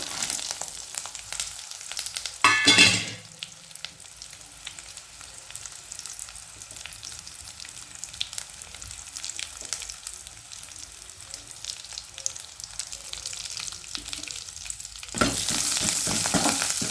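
Puffed rice with peanuts and roasted gram is tossed in a pan over a low flame, giving a faint dry rustling and scraping with louder bursts of stirring near the start and end, and no talking.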